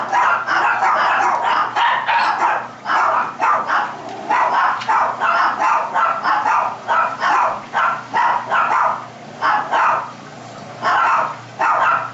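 Several dogs bark repeatedly in short bursts, loud and close, with yips mixed in, during a dog training and handling demonstration.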